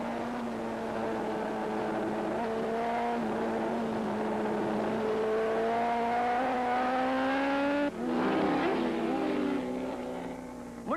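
Freddie Spencer's superbike screams through an AMA Superbike race, the engine note rising steadily through the gears, dropping sharply on a shift and climbing again, loud and close.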